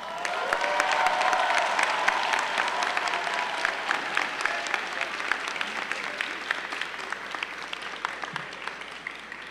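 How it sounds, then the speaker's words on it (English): A large convocation audience welcoming a new class bursts into loud, sustained applause, a dense wash of many hands clapping steadily near and far, tapering slightly toward the end with no talk over it. "Now look around at one another and applaud as loud as you can for the class of"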